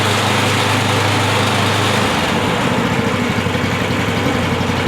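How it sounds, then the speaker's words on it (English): A small SDLD25 diesel engine runs steadily up close with its newly fitted hand throttle, the note shifting about halfway through as the engine speed changes, then holding a loud, even drone. "Let's fire this thing up and see how that throttle cable performs."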